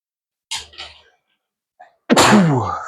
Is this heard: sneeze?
yes